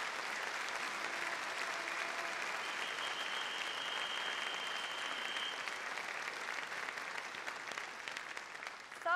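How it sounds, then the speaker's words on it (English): Audience applause at a 90th anniversary showcase for Kleeneze, a dense, even patter of many hands clapping that holds steady throughout, heard from a distance and fairly quiet. "I want to give you all a huge round of applause"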